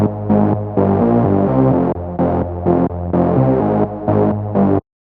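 A house-track synth layer pairing a saw wave lead with an echoing synth part plays rhythmic stabs in short bursts with brief gaps, loud and dense, stopping abruptly near the end.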